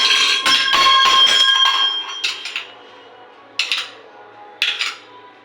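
A metal utensil stirring and scraping food in a pan, a cluster of bright clanks and rattles up front followed by three separate ringing clinks spaced about a second apart, close by.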